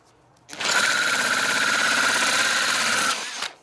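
Power drill boring into a coconut shell for a homemade bird feeder: a loud, close, sustained high whine that starts sharply, holds steady for a few seconds, then winds down and stops.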